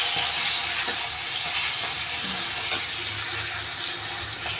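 Potatoes frying in hot oil in a home kitchen, a dense, steady, close sizzling hiss that carries on without a break and without talk.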